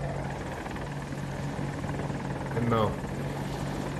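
AH-64 Apache helicopter rotor in a video game on the Hourglass map, a steady low chopping drone running throughout beneath a voice talking, with a brief higher sweep rising near the end.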